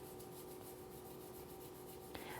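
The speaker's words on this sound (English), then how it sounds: "Scrub the inside of the slide, which is already wet with cleaner." A nylon brush scrubbing the inside of a semi-auto pistol slide wet with cleaner, a quiet, steady rapid rubbing rasp with a small click near the end, no talk.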